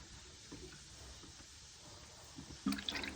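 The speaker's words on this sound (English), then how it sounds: "Since the tank is much higher than the bucket, siphoning should work." Water siphoning from a toilet tank down into a bucket: a low background hiss and trickle that grows into a louder, close burst of splashing and gurgling near the end.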